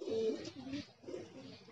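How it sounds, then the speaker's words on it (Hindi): A Rampuri pigeon coos softly in short, low, throaty phrases, two or three rolling calls in quick succession, fairly faint against light outdoor background noise. "ये रामपुरी कबूतर है दोस्तों अपना"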